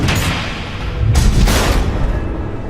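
Missile blasts in the Batman Telltale Season 2 video game, a couple of heavy booming explosions with bursts of crackling noise, loud and close, no speech.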